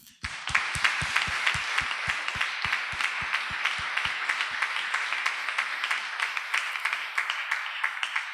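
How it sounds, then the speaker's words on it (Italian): A live audience applauds at a literary book presentation: dense, sustained clapping that starts abruptly and keeps a steady, full intensity throughout, with individual sharp claps standing out near the front. "loro se lo meritano un bel applauso"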